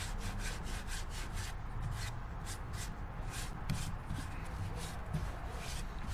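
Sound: rubbing end grain shavings into cracks of black walnut urn

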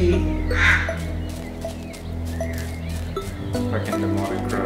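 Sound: crows cawing in the video game Little Misfortune

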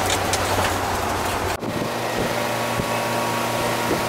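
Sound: air conditioning unit running

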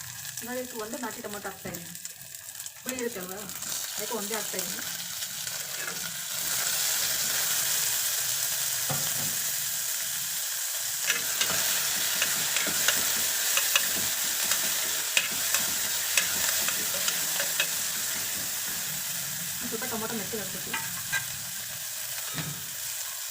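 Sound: green chillies frying in a pan

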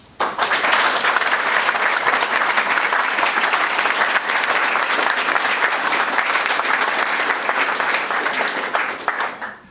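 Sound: audience giving warm applause

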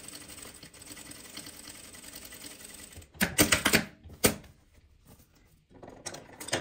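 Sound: sewing machine stitching fabric

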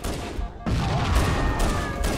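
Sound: fuel rod cannon explosions in Halo CE video game

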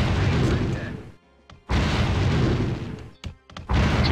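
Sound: cannons firing in video game Anno 1602

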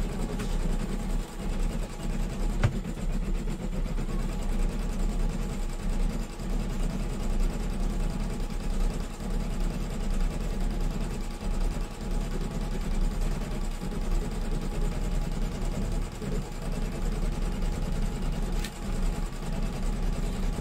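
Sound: embroidery machine stitching

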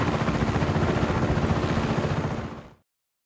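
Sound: helicopter in video game Just Cause 3

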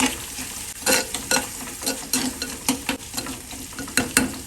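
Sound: onions with salt being stirred in a frying pan

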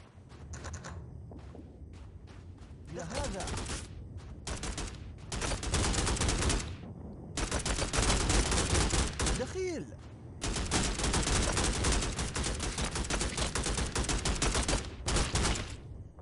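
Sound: gunfire from enemies in video game Strike Force 3

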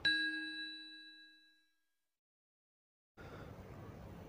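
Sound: notification bell ding

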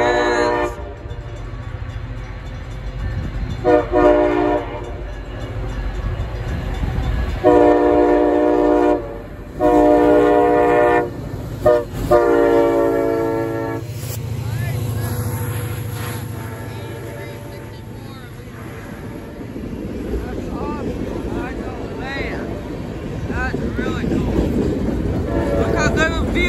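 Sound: CSX freight train with tier 4 locomotive passing, horn

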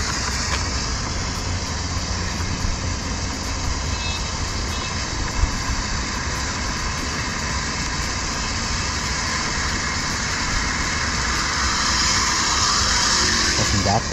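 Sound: car exhaust heard in a racing video

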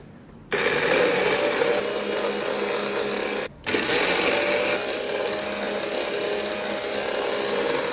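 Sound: spice grinder grinding mustard, cumin and poppy seeds

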